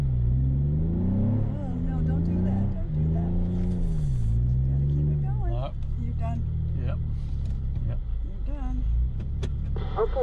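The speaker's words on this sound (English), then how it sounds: "Okay, you have to keep your foot on it in the sand." A jeep engine rumbles steadily in four low while driving through sand dunes on the east rim. It stays close and continuous beneath people talking throughout.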